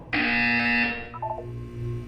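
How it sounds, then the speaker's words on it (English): An electronic buzzer from the video game Portal 2 sounds as a loud, steady tone that cuts off sharply, followed by softer descending electronic blips and a low hum. "When you hear the buzzer, look down at the floor."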